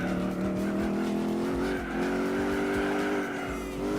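A Buick Special in Gran Turismo 4 slides through a corner, its engine droning steadily with tire squeal layered over the top, loud and continuous for several seconds.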